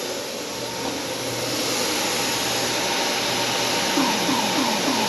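ShopBot CNC router with an automatic tool changer, moving through its calibration routine on the Z and Y axes, gives a steady, loud motor whine and drone over five seconds, with faint stepping tones near the end.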